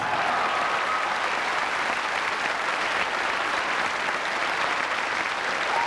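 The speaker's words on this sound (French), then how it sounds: "Applaudissez cette très belle élection et ces très belles Miss." Sustained audience applause at the 1991 Miss France pageant finale, a dense even wash of clapping from a large hall that holds steady throughout.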